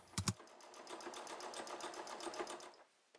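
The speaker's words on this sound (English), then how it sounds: "Top stitch the top and bottom of the white fleece in place." A sewing machine top stitches white fleece onto red fleece, beginning with a couple of sharp clicks and then running in a quick, even needle rattle for about two and a half seconds, close but fairly soft.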